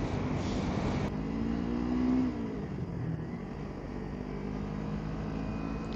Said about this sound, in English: I think my bike just kicked itself into neutral then.